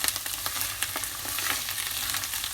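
Chopped herbs with a pinch of turmeric fry in oil for ghormeh sabzi, a steady crackling sizzle with occasional sharper pops and stirring, close and fairly quiet.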